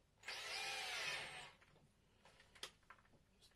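A power drill whirs loudly for just over a second, then stops, followed by a few light clicks and handling knocks nearby, while repairing a broken point on a 4mm-scale 00 gauge model railway layout.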